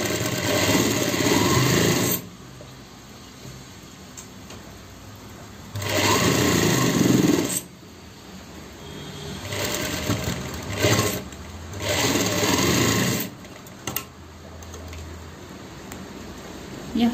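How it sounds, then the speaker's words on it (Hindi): A sewing machine stitches a pocket on a belted shalwar in loud, steady bursts of whirring, stopping and starting several times with quieter pauses between runs. "इस पॉकेट को दोनों साइड से स्टिचिंग करनी है"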